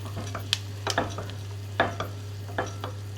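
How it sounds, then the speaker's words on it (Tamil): Sesame seeds and cashew nuts roast in ghee while a spoon stirs and scrapes the pan, a soft sizzle under sharp periodic scrapes, set against a steady low hum. "கால் கப் எள்ளு அதையும் போட்டு நல்லா வறுத்தெடுப்போம்"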